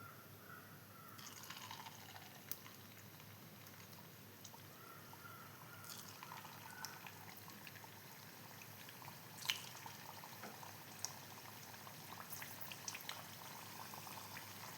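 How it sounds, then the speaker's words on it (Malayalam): Potato snacks frying in hot coconut oil give off a continuous quiet sizzle and bubbling that holds steady throughout. A few sharper pops and clinks stand out now and then, and no voices are heard. "അപ്പോൾ വെളിച്ചെണ്ണ കാഞ്ഞ് ഞാൻ അതിൻ്റെ അകത്തേക്ക് ഇട്ട് കൊടുക്കുന്നുണ്ട്"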